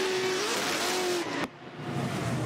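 A Formula Drift car's engine drones at speed during a competition run, its pitch sagging as it eases off, then cuts sharply as the throttle lifts, leaving quieter rumble.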